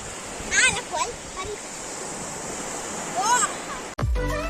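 Sea waves washing onto Kuda beach near Bhavnagar, a continuous wash of surf and wind with birds chirping twice over it and a sudden thump near the end.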